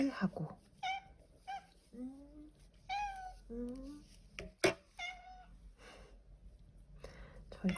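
A pet cat meows repeatedly in short rising and falling calls, close and fairly quiet, during a glove-knitting session in a quiet room.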